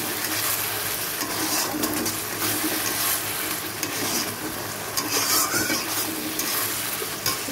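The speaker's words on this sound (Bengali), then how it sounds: "এবারে মাংসটা দিয়ে দেবো, দিয়ে ভালো করে কষে নেব" Meat stirred into an oily, nearly cooked spice paste in a pan, a steady close sizzle and fry under continuous scraping and stirring, with no talk.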